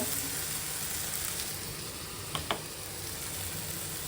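Cabbage and fish head curry sizzles softly in a pan, a faint steady frying hiss broken by a couple of quick utensil clicks as it is stirred.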